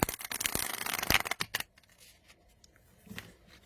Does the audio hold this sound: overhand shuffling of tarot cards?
yes